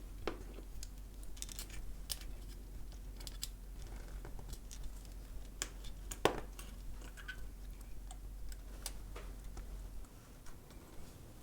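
Small cutters snip the component legs off a wireless FM microphone kit circuit board, a scatter of quiet, sharp clicks at irregular intervals, close by, with one louder snap midway.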